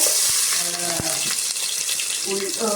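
Garlic sizzling in hot coconut oil, a steady close broadband hiss with a few brief clinks and rustles; no talk.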